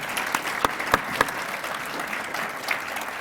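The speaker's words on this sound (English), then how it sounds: "I'm going to ask you to give them a round of applause" A luncheon audience applauding, a dense patter of clapping at moderate volume, with a few sharper individual claps standing out early on.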